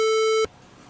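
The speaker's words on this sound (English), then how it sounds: "I will beep the name." A single steady electronic censor beep sounds loudly for just under half a second to mask a name in conversation, then cuts off abruptly to quiet room tone.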